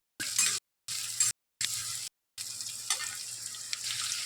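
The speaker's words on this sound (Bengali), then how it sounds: "এবার আমি পেঁয়াজ দেবো দেখুন পেঁয়াজটা দিয়ে দিয়েছি" Onions frying in hot oil in a wok give a loud hiss and crackle in short bursts cut by brief silences, then a steadier sizzle with small pops and stirring scrapes.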